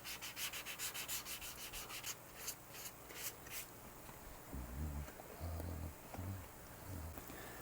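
Guitar body being sanded by hand with 1000 grit sandpaper, a steady rhythmic rubbing strokes close up, fading into softer scuffs and low thumps toward the end.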